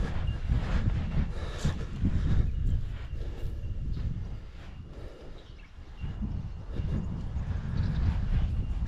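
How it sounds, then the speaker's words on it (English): Strong wind blows across the microphone in an open backyard, a continuous heavy low rumble with gusts swelling and easing, loud and close throughout with no other clear sounds. "Try and get out of the wind, but I can't."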